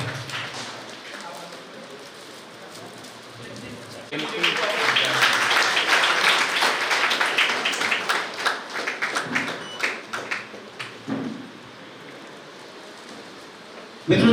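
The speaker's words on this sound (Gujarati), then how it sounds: "જોરદાર તાળીઓના ગડગડાટ સાથે આપણે" Applause at a Gujarati poetry book launch event in Girnar, a dense crowd clapping that swells suddenly, stays loud for several seconds, then thins into scattered claps and a murmur of voices.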